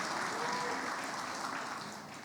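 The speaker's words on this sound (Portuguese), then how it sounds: "uma salva de palmas aqui" A church audience claps steadily for a couple married eleven months, with a dense, even round of applause that fades slightly toward the end.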